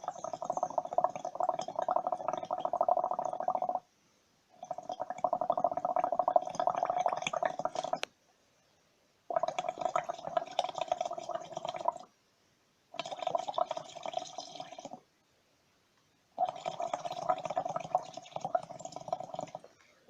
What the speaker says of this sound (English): I will blow into the lime water until something happens